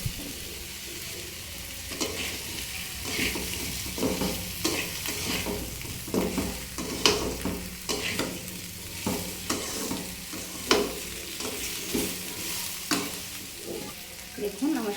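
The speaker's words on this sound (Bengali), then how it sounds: "সবজি এবং ডাল ভাজি হয়ে গেছে" Mung and masoor lentils with vegetables sizzle steadily in a hot pan while a spoon repeatedly scrapes and stirs, sharp strokes recurring every second or so.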